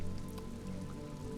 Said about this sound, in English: Oh, it's noon, but it's raining.